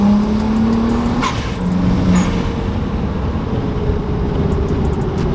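A BMW 335i with an HKS single exit exhaust pulls hard in third gear, its engine note droning and rising under a broad road and wind roar, heard from inside the moving car without talk.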